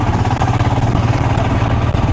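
Motorcycle engine running steadily and loud up close on an off-road mountain road in Himachal Pradesh, a continuous low rumble with rough clatter throughout and no talk.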